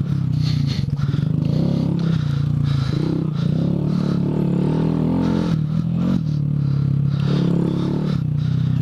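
Honda Grom motorcycle ridden off-road on street tires through sandy trails at Colliers Mills in Jackson, New Jersey, a continuous loud engine drone with shifting revs and rattling, scraping clatter throughout, no speech.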